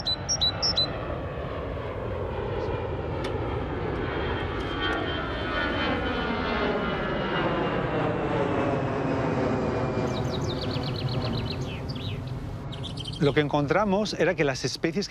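A loud airplane roars overhead, its engine drone rising and sweeping in pitch as it passes, with birds chirping faintly toward the end.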